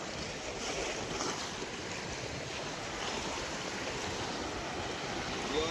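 Sea waves roll in along the coast near Dwarka, a steady broad wash of surf and wind, continuous and fairly close, with no voices.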